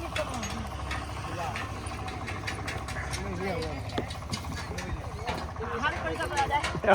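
A tractor engine idles with a steady low rumble throughout on a farm field, with people talking over it and some clatter and knocks toward the end as goods are loaded.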